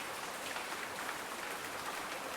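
Steady rain falls in the video game Butterfly Soup 2, a soft, even hiss of drops on surfaces that continues without a break and without talk.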